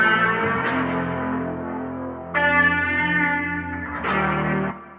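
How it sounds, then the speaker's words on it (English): A looped electric guitar phrase drenched in reverb and echo effects, sustained chords swelling and repeating, played alone without voices. "And then finally I found this guitar right here from Looperman"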